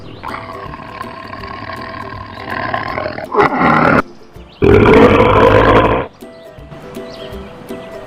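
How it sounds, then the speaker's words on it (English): An animated tiger gives loud, growling roars, a short snarl followed by a longer, powerful roar, close and dominant over faint background sound. "Tiger."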